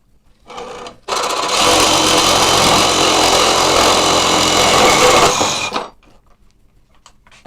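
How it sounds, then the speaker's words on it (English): A power hacksaw cuts steadily, a loud continuous mechanical whir that starts abruptly after a brief lead-in, holds for about five seconds, then cuts off, leaving quiet workshop noise. "I think I'm going to use my power hacksaw."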